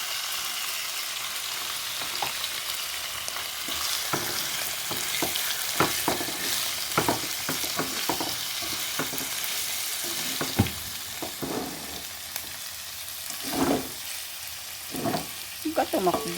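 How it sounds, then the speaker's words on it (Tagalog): Chicken frying in a pan with garlic and bell pepper for homemade chicken afritada, a steady close sizzle broken by scraping stirs and clinks throughout, with occasional faint talk. "ilalagay na natin yung chicken"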